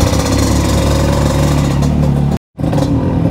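A Yamaha MT-09 motorcycle engine runs loud and close, a dense rumbling roar that cuts out abruptly for a moment before catching and running again.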